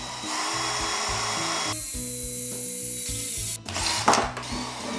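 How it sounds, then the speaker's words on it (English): A power drill with a 3/16 inch bit bores through a leg of a portable market display, a loud pulsing whir that changes pitch as it cuts, then stops with a brief clatter. "we're gonna use the 3/16 inch drill bit to drill right here"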